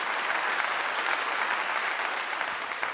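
Hands clap steadily in a dense, continuous patter for about three seconds, close and fairly even throughout.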